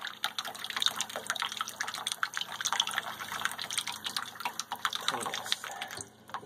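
Tap water from a regular faucet splashes and gurgles steadily as it fills a Brita pitcher, a continuous close, bright running stream that cuts off near the end.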